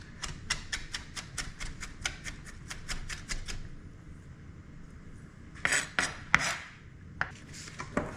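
A sharp knife chops crayfish finely on a board, fast even knocks in a steady run, then a pause and a few louder, scattered cuts and scrapes, close and clear.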